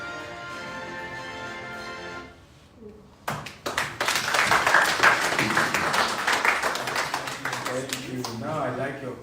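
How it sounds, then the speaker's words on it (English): Audience clapping breaks out after a voice speaks, a dense burst of many hands at a meet-and-greet in Glasgow that rises quickly, holds steady and then tapers. "Now I like your clap."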